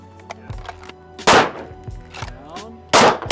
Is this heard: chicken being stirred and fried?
no